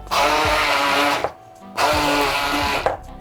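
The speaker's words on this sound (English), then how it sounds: "with the stick blender I'm going to mush this up" A stick blender mashes chickpeas in a large bowl for burger mix, running in two loud sustained bursts with a short pause between them.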